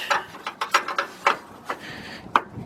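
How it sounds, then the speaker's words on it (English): A ratchet wrench tightens a 12 mm brake line fitting on a 2004 Ford Expedition, giving a quick series of sharp clicks in short irregular strokes, close and fairly loud in a cramped space. "That's a 12 millimeter. Let's get our wrench."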